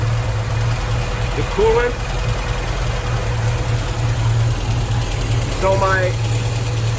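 An MGB engine runs steadily at idle with its radiator fans turning, a constant low droning hum close by while a person talks briefly over it.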